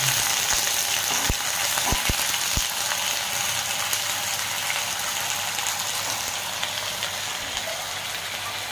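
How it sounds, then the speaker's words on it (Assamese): Boiled pork frying without added oil in a pan, its own fat starting to render: a steady, close broadband sizzle that runs unbroken throughout, with a few sharp clicks and taps early on. "এতিয়া আমি পৰ্কখিনি ফ্ৰাই কৰি লম"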